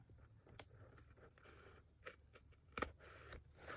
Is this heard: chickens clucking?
no